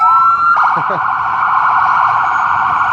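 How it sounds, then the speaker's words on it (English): A loud ambulance siren wails steadily and fairly close on a North Philadelphia street, holding a sustained high tone with a brief warble near the start. "So as you hear in the background, this is the ambulance."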